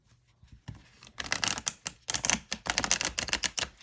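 Cards riffled and shuffled in quick bursts of dense, crisp flutter, with a quieter pause of handling noise at the start.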